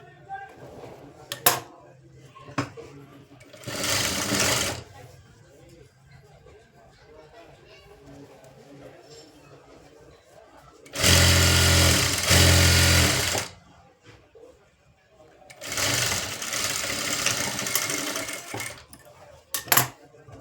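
A sewing machine stitches a lined blouse in three separate whirring runs, each a few seconds long, loud and close, with quieter clicks and handling noise in the pauses between.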